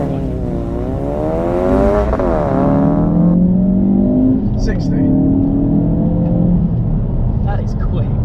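A manual Ford Focus RS accelerates hard along a straight road, the engine note climbing steadily through the gears with a loud, continuous whine, while a person talks over it throughout.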